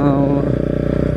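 A Pulsar NS200 motorcycle fitted with an Akrapovic exhaust runs close and loud, its deep steady engine drone broken by rapid regular exhaust pulses, with no speech over it.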